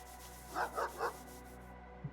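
A dog in a video game barks three times in quick succession, fairly close and clear over faint background sound, followed by a brief soft yip.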